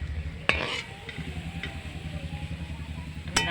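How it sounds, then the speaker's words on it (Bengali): Bottle gourd peel pakoras bubble and sizzle steadily in hot oil, close by, with a few sharp metallic clinks of a spoon against the pan. "আমি এইভাবে সব পকোড়াগুলো ভেজে নেব"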